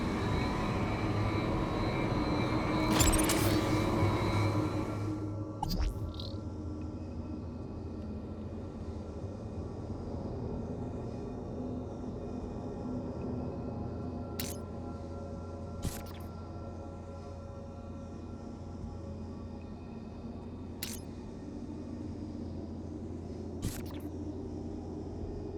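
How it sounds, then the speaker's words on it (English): An exhaust fan from the video game Beyond a Steel Sky runs at a gentle speed, a steady low whirring drone with a louder rush at first and a few sharp clicks scattered later. "The exhaust fan had slowed down to a gentle speed."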